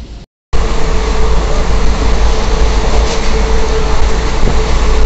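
A moving passenger train past Bardhaman station makes a loud, continuous rumble and roar heard from inside the carriage. Faint rhythmic wheel clatter sits under it, after a brief cut at the start.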